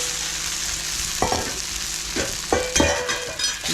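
Tofu and shrimp stir-fry for pad thai in a hot pan, a constant sizzle cut by several quick clattering scrapes and tosses.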